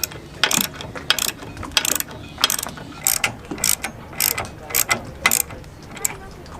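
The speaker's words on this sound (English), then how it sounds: "tightening the bolts and these little lock washers on the top" Ratchet wrench tightening boat anchor bolts with lock washers between fluke and shank, a close series of quick metallic clicking bursts repeating in an uneven rhythm.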